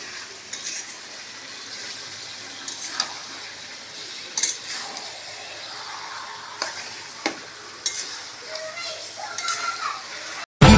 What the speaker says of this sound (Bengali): এখানে ভাত হয়ে গেছে মাংসটা কষাচ্ছি